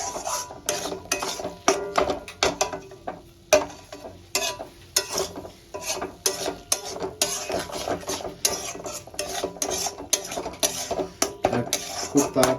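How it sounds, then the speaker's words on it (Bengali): Spices stirred and fried in a pan for Bengali katla fish kalia, with a spoon repeatedly scraping and clanking against the metal under a steady sizzle, in an irregular rhythm close to the mic. "এবার আমি সব মশলাগুলোর সঙ্গে আবার ভালো করে কষাতে থাকবো।"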